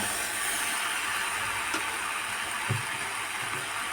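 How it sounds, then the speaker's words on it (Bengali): Water poured into a hot pan where lentil dumplings (dal bori) are frying, setting off a loud, continuous hiss with a couple of faint clinks, heard up close without speech. "এখন দিয়ে দেবো জল"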